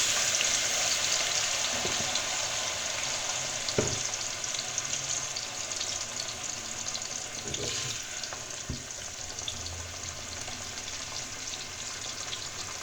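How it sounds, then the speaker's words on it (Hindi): Ground ginger, garlic and onion paste fries in hot oil with a loud, even sizzle that eases slightly over time, punctuated by a few scattered clinks of a stirring spoon. "और अब हम इसको गरम तेल में डालेंगे।"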